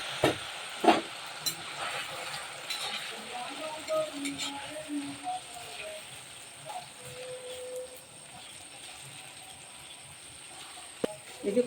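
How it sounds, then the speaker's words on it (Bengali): Sago chanachur fries in hot oil for an Ekadashi snack, a steady close sizzle and hiss with bubbling pops as the pieces puff up, stirred now and then, with no talking. "একটু সাবধানে ভাজবেন, কারণ সাবু তো একটু ছিটিয়ে গায়ে আসতে পারে"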